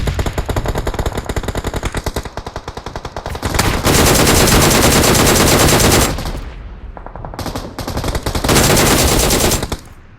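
Automatic weapon fire in the battle game PUBG during a zone chase: loud, close, rapid bursts of gunshots, several sustained volleys separated by short gaps.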